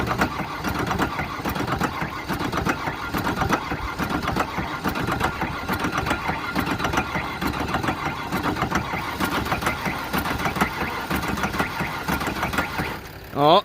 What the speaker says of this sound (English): Oh, it's starting to get really, really knocky.